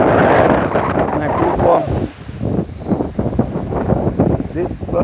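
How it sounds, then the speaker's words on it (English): Strong wind at a sargassum-covered beach in Yabucoa, Puerto Rico, buffets the microphone in heavy, gusting rumbles that ease and surge, with a faint wash of surf and a voice partly buried underneath. "It's windy."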